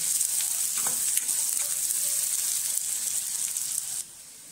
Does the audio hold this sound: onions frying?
yes